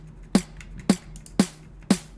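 A layered electronic snare drum without added noise generation strikes four times in a steady, even pulse, each hit sharp with a quick decay over a faint low hum, no voices.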